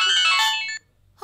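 A mobile phone rings for an incoming call with a bright, short melodic ringtone phrase that cuts off, then a brief restart at the end.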